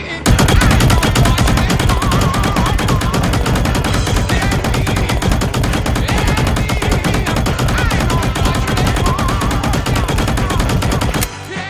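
Loud, continuous rapid-fire bursts from a Kriss Vector in .22 long rifle in the game Reload, a dense unbroken stream of shots lasting over ten seconds.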